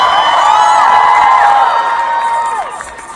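Loud cheering and whooping from a live concert crowd at a Valentine's Day show, over sustained ringing tones, with scattered shouts before the noise tapers away.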